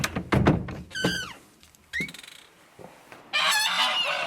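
Several geese honk loudly nearby in Llangollen, Wales, in harsh, separate calls, with a few dull thumps early on and a burst of overlapping honking at the end.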